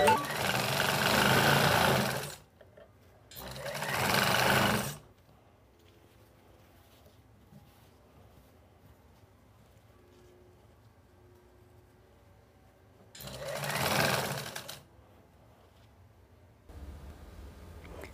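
A sewing machine stitches the folded corner of an elastic-waist pant in short bursts: two close runs at the start, a long quiet gap, then two more runs near the end, each a dense, steady mechanical whir.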